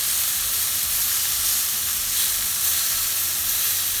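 Beef sizzles steadily as it grills for tacos, a loud, constant hiss of frying with no breaks and no voices.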